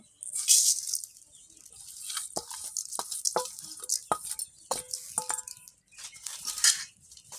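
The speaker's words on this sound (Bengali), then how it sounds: "এই চালগুলো একটু ভিজে গেছে, এবার চালগুলো একটু ভাজা দিয়ে নেব।" Soaked rice dry-roasted in a pan for puffed rice, stirred with a jute-stick stirrer, gives repeated dry rattling scrapes and crisp clinks in an irregular rhythm, close and clear.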